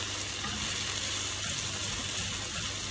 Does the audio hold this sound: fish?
yes